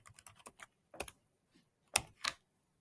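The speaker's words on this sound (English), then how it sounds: "We will type in our product" Typing on a computer keyboard while adding a product entry in a wall-mounted vending machine's setup software, with a quick run of light key taps, a pause, then a few louder isolated keystrokes, close and clear with no talking.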